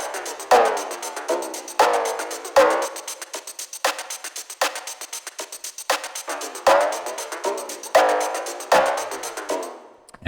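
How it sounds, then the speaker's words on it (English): A looping drum pattern with sharp, regularly spaced hits, run through the Wasted flanger plugin as the effect is switched on and off, so the swirling sweep comes and goes between repeats; loud and alone. "Listen to it with flanger, and then without I will cycle."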